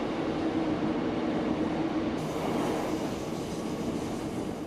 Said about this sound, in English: our Class 150 gets a chance to get close to its operating maximum speed.